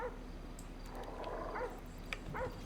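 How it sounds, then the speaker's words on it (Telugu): In GTA V, played with a Michael real-life mod, a dog gives a few faint, short barks and yips against a quiet background. "ఒరే కుక్క సౌండ్లు వస్తున్నాయి,"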